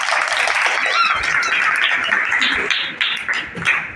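Audience clapping at a devotional gathering after a scripture recitation: a steady, dense patter of many hands that holds for several seconds, then thins slightly toward the end.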